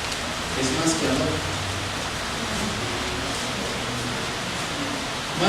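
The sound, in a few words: rain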